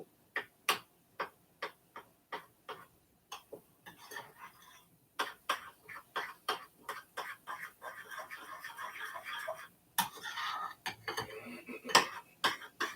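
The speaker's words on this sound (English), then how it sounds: "Alrighty, so I'm just gonna mix this slowly." A spoon stirs broccoli cheesy muffin batter made with almond milk in a bowl, clicking and scraping in a slow, steady rhythm of distinct close taps, with a voice talking between strokes.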